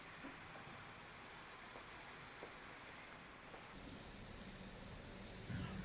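Rain falls steadily in Jaisalmer near the India-Pakistan border, a soft, even hiss of raindrops on surfaces that holds at a constant low level throughout.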